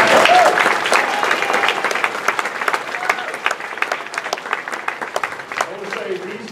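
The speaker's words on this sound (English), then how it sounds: "please give them a round of applause." Georgia Democratic party members applaud the House Democratic Caucus in a meeting room, loud sustained clapping that slowly thins out over several seconds with a few voices underneath.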